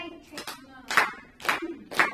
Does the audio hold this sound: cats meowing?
no